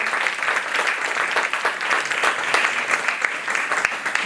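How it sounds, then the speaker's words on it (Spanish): An audience at a book event for the author Aurora Luque gives loud, sustained applause, with dense overlapping clapping close by that keeps steady for several seconds. "un aplauso de nuevo para ella"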